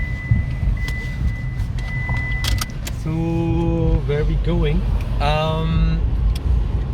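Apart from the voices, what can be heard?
car interior while driving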